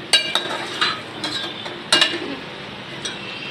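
Tomatoes and spices stir-fried in a pan for a cauliflower and mutton dish, a soft sizzle under several scraping spoon strokes and metallic clinks against the pan, close and alone.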